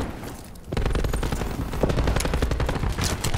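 Rapid, loud gunfire from a shooter video game, with a sniper in play, erupts after a brief quiet lead-in and keeps up as a dense, continuous volley of close shots.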